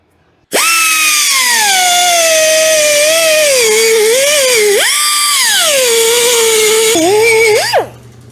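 Carbide burr on a rotary tool grinding metal on a car engine, a loud close high-pitched whine that sags and rises in pitch as it bites, running continuously before winding down at the end.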